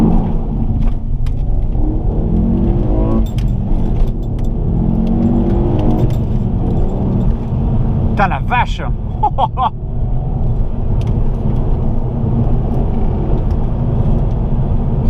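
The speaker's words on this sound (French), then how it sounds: "il m'a dit que ça claque à l'échappement depuis peu, entre 2000 et 3000" A 2007 Ford Focus ST is being driven, with a steady, loud engine and exhaust rumble throughout. Brief rattling pops occur in the middle, and a person speaks a few words over the drone.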